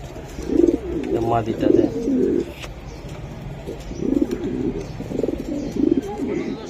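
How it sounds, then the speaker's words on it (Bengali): A pigeon coos repeatedly at close range in rhythmic bursts, while someone talks over parts of it. "খালি ডাকে কবুতরটা"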